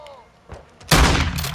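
Call of Duty: Modern Warfare 2 gunfire on PS5, a sudden loud burst of shots after a quiet moment with faint game voice beforehand.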